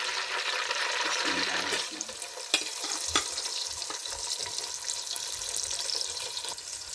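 Two onions sizzle in a pan of melted butter on the stove, a loud steady hiss that settles down after a couple of seconds, with a few clanks of a utensil against the pan.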